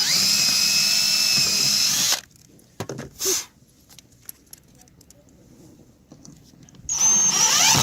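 A power drill bores into an aluminum diving board surface mount on an Avanti pool, a loud high whine for about two seconds, a pause with a few clicks and rattles, then the whine again.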